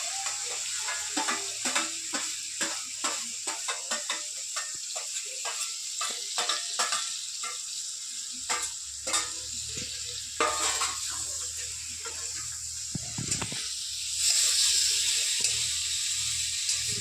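Meat and potato pieces fry in hot oil, giving a steady soft sizzle broken by irregular clicks and scrapes of stirring in the pan, with no talking.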